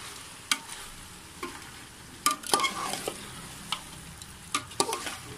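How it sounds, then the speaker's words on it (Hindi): Chicken gravy with onions gets stirred in a pot, a low bubbling sizzle punctuated by irregular sharp scrapes and knocks of a spoon against the pot, close up, no voices. "तो इसे अच्छे तरीके से मिक्स कर दूंगी"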